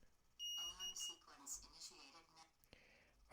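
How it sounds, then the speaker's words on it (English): An alarm set off by pressing its test button sounds in brief, shrill, high-pitched beeps, heard faintly under a person talking nearby. "All you have to do is fire the alarm by pressing the button."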